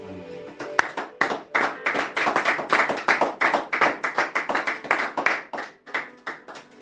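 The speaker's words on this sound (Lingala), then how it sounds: "Pourrons-nous acclamer pour Jésus-Christ?" A church congregation at a French-language prayer service claps for Jesus Christ: close, loud rhythmic clapping in fast bursts that rise and fall for several seconds, with no talking over it.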